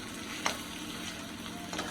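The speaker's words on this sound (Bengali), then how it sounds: "আর একটু হলে ভাজা হয়ে যাবে পনিরটা।" Homemade paneer fries in oil in a pan with a steady close sizzle and two brief stirring clicks.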